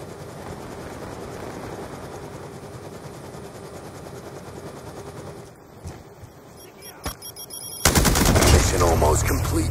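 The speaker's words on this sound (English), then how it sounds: "Stealth chopper inbound." Black Ops 2 video game combat with a stealth helicopter's steady rotor drone under rapid machine-gun bursts, ending in a loud surge of heavy gunfire near the close.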